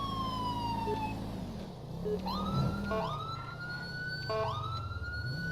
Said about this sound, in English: Dual sirens.